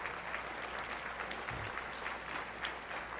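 Audience applause fills a company awards gathering: steady, dense clapping from a crowd that holds at an even level for about three seconds, with no speech over it.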